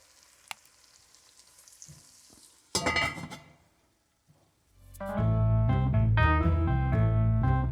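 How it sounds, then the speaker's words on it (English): Onions sweat in a covered pot for a carbonnade flamande, first with faint clinks and a brief lid clatter, then a loud steady sizzle that fills the last few seconds. "So I'm gonna slowly start to sweat these first by just putting the lid on"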